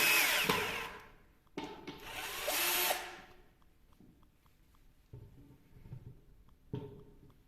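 A power screwdriver drives screws into the legs of a walnut-veneer side table on casters: several whirring bursts, the longest early on, then shorter pulses with brief stops between, close by and without talk.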